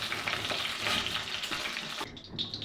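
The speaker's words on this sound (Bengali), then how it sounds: "ফুলকপিটাও কিন্তু ভাজা হয়ে গেছে হালকা করে।" Cauliflower pieces fry in hot sunflower oil with a loud, dense sizzle that drops away abruptly near the end, leaving a softer crackle close by.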